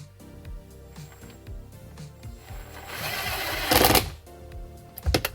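Small electric motor of a Tesla Model Y rotating display screen, a close whirring hum that builds and then surges loud, with clicks and mechanical knocks at start and finish.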